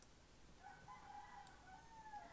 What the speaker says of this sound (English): I'm really sorry about the roosters